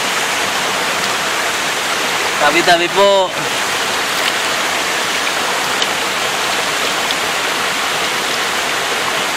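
Twin Falls waterfall in Kalayaan, Laguna, a loud, constant roaring rush of falling water filling the whole scene, with a voice briefly speaking over it near the start.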